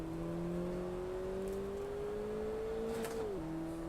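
Race car engine in Assetto Corsa holding a steady high drone that climbs slowly in pitch under throttle, then drops sharply at an upshift near the end, loud and continuous with no talk.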